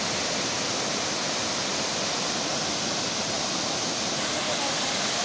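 Budingalu waterfall pours over rocks in a constant, dense roar of rushing water that fills the whole clip without pause.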